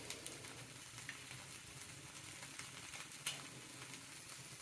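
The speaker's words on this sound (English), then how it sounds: "It's starting to sizzle a lot." Canned meat frying in a pan, a quiet continuous sizzle with faint crackles and one sharp clack near the end.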